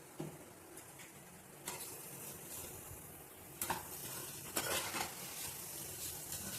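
A blood stir-fry with pepper powder and coriander leaves being stirred in a pan, faint steady sizzling broken by a few louder scraping strokes, close and quiet.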